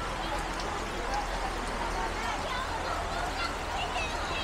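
Sudden rain falls at a street food stall in Davao, a constant dense patter and hiss of drops that stays even from start to end at moderate loudness.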